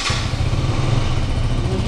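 A 2024 KTM RC 200 motorcycle engine, fired with the self-starter, runs in a loud, close, steady low rumble with a brief brighter burst right at the start.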